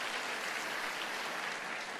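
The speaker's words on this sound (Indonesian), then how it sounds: "Tepuk tangan buat jemaat yang luar biasa." Applause from a church congregation, a steady, dense wash of many hands clapping that fills the room evenly throughout, with no voices rising above it.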